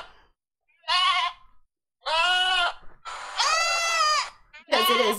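A goat bleats four or five times in loud, close, quavering cries separated by short silences, with no talk between them.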